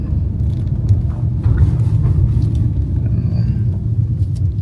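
A car rolls in to park, a low steady rumble close by with no one talking.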